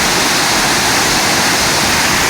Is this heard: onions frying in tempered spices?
no